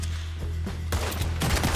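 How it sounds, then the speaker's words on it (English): Shotgun blasts in Red Dead Redemption 2, three heavy booming shots about half a second apart, each with a broad crack and rumbling tail, close and loud, no voices. "No, this shotgun ain't hitting."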